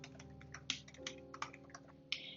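Quiet clicks of typing on a computer keyboard, irregular keystrokes with a few sharper taps, close but low in level.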